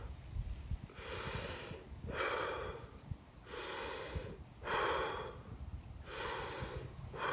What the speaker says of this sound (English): That's called paradoxical breathing, and that's terrible.